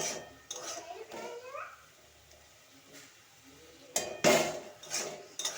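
Metal utensils clank and scrape against a wok in bursts as sun-dried lentil dumplings are broken up, with a louder clatter near the end as the wok nearly tips, and soft voices in the background.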